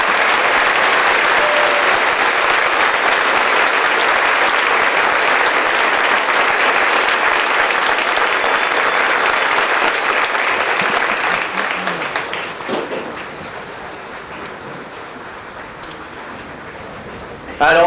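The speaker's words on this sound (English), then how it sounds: "Please join me in a round of applause for the Society of the 5th Infantry Division" Sustained, loud applause from a large audience at a Fort Jackson Army basic training graduation ceremony, steady clapping for about twelve seconds before tapering off into quieter crowd noise.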